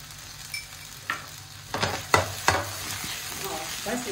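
A rice and chana dal snack with chili flakes is tossed in a hot pan, with several sharp scraping stirs and clattering tosses over a low sizzle.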